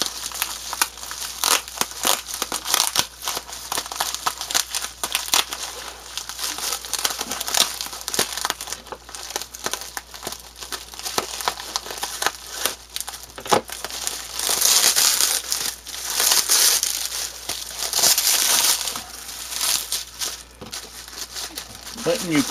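Packing tape is peeled and worked off a mailed package, making close, continuous crinkling and rustling with louder tearing bursts partway through and scattered sharp crackles.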